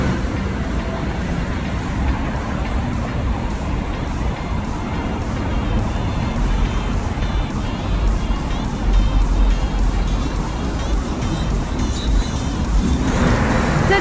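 Steady road traffic rumbles beside a rapid bus station linked to a metro stop in Istanbul, Turkey, a continuous broadband wash of passing vehicles that swells slightly toward the end, with no talk.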